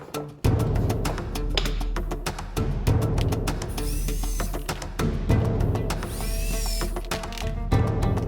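A hole saw drills through the shell of a Gemmy Zultan animatronic fortune teller, giving a close, steady grinding drone broken by repeated sharp clatters and ratcheting knocks.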